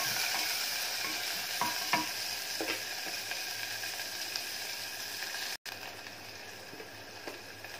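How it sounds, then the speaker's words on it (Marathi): Onions sauté in a pan with a steady close sizzle and soft scraping stirs repeating throughout, no voices, with a momentary cut near the end. "कांदा छान गुलाबी होईपर्यंत आपल्याला यामध्ये परतून घ्यायचा आहे"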